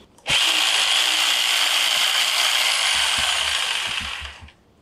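Jigsaw cutting through wood for a DIY project, a loud continuous buzzing whine that starts abruptly, holds steady for about four seconds, then winds down.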